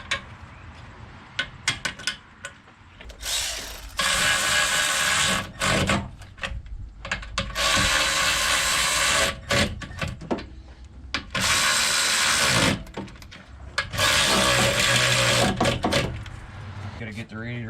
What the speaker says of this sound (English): Gotta get the radiator hose tightened up here.